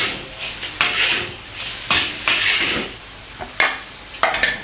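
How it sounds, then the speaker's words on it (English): Deep-fried shrimp tossed with Sichuan pepper salt in a hot wok: a loud sizzling hiss cut by sharp metallic scrapes and flips every second or so, close up, with no talking. "Add the deep fried shrimps and the Sichuan pepper salt into the wok. Have a few quick stirs and flips."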